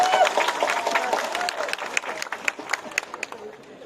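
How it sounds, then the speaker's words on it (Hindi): An audience at a community stage event with dignitaries claps, a dense roar of applause thinning into scattered individual claps toward the end, with a voice speaking over it. "थोड़ा जोर से ताली मारी"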